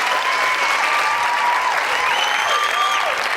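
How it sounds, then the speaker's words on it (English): Loud, sustained applause from a large audience at an awards ceremony honoring EBS TV as most admired African media brand, a dense unbroken wash of clapping with a few whistles riding over it. "Another round of applause"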